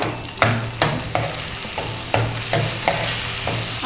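Tomatoes frying in a hot pan for a crab curry: a loud, continuous sizzle broken by regular scraping strokes of a ladle, close and dominant with no voices.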